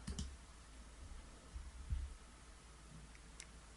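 Faint, sparse computer mouse clicks, a few scattered single taps in a quiet room while a WordPress plugin is installed.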